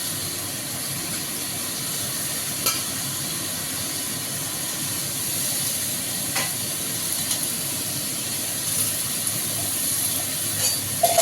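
Eggplant and leafy greens frying in a hot pan, a steady broad sizzle and hiss throughout, close and even, with occasional soft stirring scrapes and no talking.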